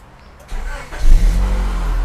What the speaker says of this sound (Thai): ฟังเสียงเครื่องยนต์เดี๋ยวพาลองขับสักหน่อยนะครับ